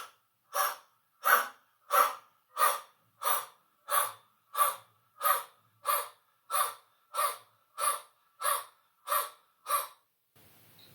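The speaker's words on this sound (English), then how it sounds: "So I'm going to do Kapalbhati with my mouth open just to show you how the sound should" Forceful Kapalbhati pranayama breathing done with the mouth open, with about sixteen sharp, evenly spaced exhalations roughly every 0.6 seconds, close and clear with silence between the bursts.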